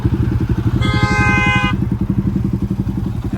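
A Bajaj Pulsar NS 200 with a modified exhaust idles close by in a loud, rapid, even burble, with a brief tonal whine rising over the throb partway through.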